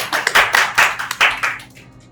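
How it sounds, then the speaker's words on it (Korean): A small group claps for a poster during a student club seminar, a few quick bursts of close hand claps that thin out and fade over about two seconds. "이 멋있는 포스터에 대해서 다 같이 박수를 한번 보내볼까요?"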